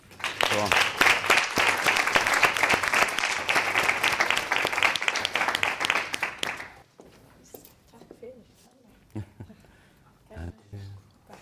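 An audience claps for an award winner at a live Icelandic sustainability event, loud sustained applause for about seven seconds before it stops abruptly, leaving a quieter room with scattered sounds and a voice.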